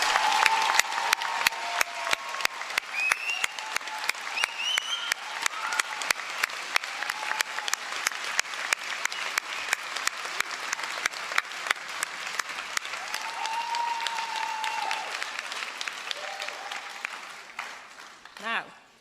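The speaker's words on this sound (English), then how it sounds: "So let's hear a round of applause." Graduates and guests at a University of Salford winter graduation ceremony give a long round of applause, steady rapid clapping from a large hall crowd with scattered cheers and voices, fading out at the end.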